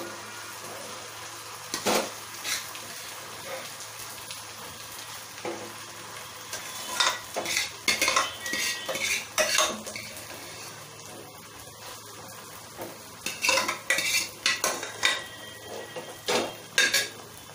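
Mustard greens saag being stirred with a spoon in a pan over low heat: close scraping and clinking strokes against the metal, arriving in uneven clusters with a soft sizzle underneath, no voices.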